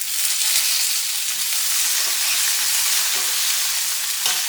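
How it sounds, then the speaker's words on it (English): Potato and aubergine chunks cook in a pan, a dense, even sizzle filling the whole stretch with a few faint scrapes of stirring near the end. "I sprinkle in salt, giving it a stir and closing it with a lid"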